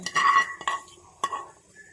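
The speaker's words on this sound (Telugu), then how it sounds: "తాలింపు అయితే రెడీ అయిపోయింది చట్నీలో వేసేసుకుందాం" A few clinks of a spoon against a metal pot as hot tempering is poured into mango chutney and stirred, with brief scraping in between, close up.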